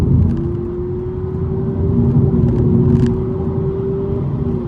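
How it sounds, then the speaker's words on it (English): A 2025 Honda Civic e:HEV in sport mode accelerates with a loud, steady cabin drone and a rising whine, heard from inside the car. "Now let's go into sport mode and step a little bit more."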